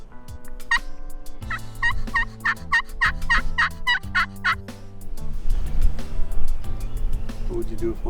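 A wild turkey gobbles in a series of loud rattling bursts at a public-land spring hunt, with people talking quietly nearby under and between the calls.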